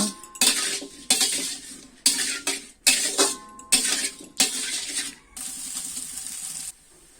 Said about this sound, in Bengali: লবণ এবং হলুদ দিয়ে আলুগুলো ভালোভাবে ভেজে নিব।